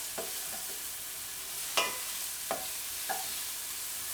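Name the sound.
onions frying in heavy pan with bay leaf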